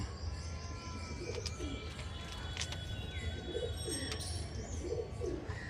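Pigeons let loose in a cage coo in soft, repeated low phrases, with a few chirps and faint wing rustles. Close and quiet, no speech.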